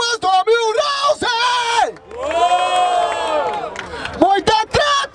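A live crowd at a Brazilian freestyle rap battle, Batalha da Aldeia in Barueri, roars and cheers loudly. A shouting MC's voice comes in bursts before and after a sustained swell of whoops and yells.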